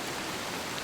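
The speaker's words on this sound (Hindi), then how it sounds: "माँ, बहुत तेज बारिश है" Heavy storm rain pours in a steady, dense hiss with no break, loud and close, alone without voices.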